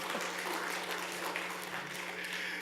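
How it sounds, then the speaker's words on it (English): A Sunday church congregation claps together, a steady, moderately quiet patter of many hands sustained throughout with a faint low hum underneath. "give me a clap"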